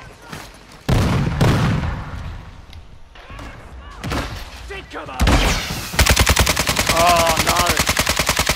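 Video game gunfire, with scattered loud shots and bursts early on, then a sustained rapid machine-gun volley near the end, under a player's excited shouting.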